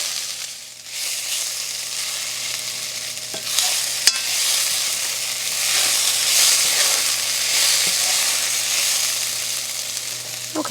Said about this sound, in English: And I'm just going to saute these down.